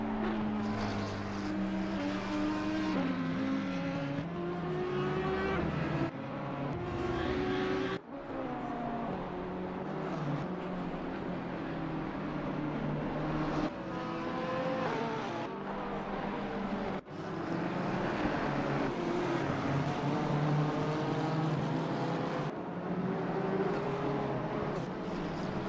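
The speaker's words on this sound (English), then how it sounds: "So pretty close between these guys, but the Audi seems to have got a bit of pace and has pulled away as we see Tom McCormick coming into the pits" Race car engines roar in Assetto Corsa Competizione during a Brands Hatch sim race, with Audi, Porsche, Honda and McLaren cars in the field. The loud engine whine climbs and falls steadily through gear changes, and a few brief dropouts break it.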